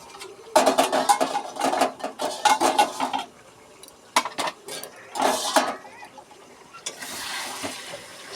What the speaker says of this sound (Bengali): ঢাকাটা খুলে মাংসটা নাড়িয়ে নেব